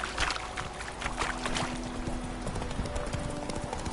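Hooves of Roach, Geralt's horse in The Witcher video game, clip-clop in a steady trotting rhythm at moderate distance, mixed with ambient game sounds and no talk.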